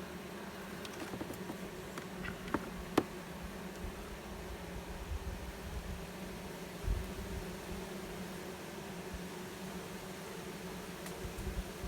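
Honey bees buzzing around a log hive during warm weather, a faint steady hum with a few soft clicks and knocks close by, no voices.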